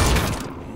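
A pistol shot in a zombie video game: one loud, sharp burst at the very start that decays quickly into a fading tail, heard alone.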